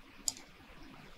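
A single soft computer mouse click during work in Character Creator 3D character software, faint and isolated against quiet room noise.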